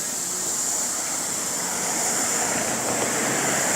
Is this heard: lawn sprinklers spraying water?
yes